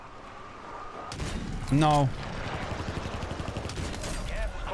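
MCW submachine gun in Warzone firing a rapid burst of shots, with other gunfire crackling around it while a voice speaks briefly.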